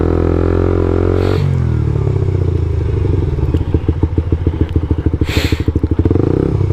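A motorcycle idles and then pushes slowly through a muddy puddle up close, its engine chugging in a rapid thumping rhythm amid splashing and sloshing water, with a couple of sharp hissy bursts.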